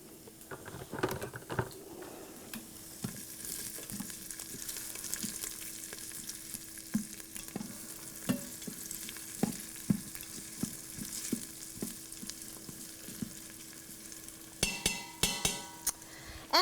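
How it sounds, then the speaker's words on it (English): Onions sautéing in an Instant Pot, a soft crackling sizzle with intermittent taps and scrapes of a utensil against the pot, close but fairly quiet. "we're adding in those onions so that they can get cooked and translucent. We're gonna allow them to saute for about 2 minutes."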